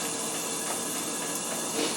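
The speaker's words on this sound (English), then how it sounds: "Kind of puts a bit of a steam in there." Cod fillets sautéing in garlic oil hiss with a steady broadband sizzle of steam after lemon juice hits the hot pan, continuous and fairly close, with no talking.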